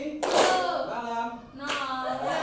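A group claps hands in a classroom concentration game, with a couple of sharp, short bursts of clapping separated by voices.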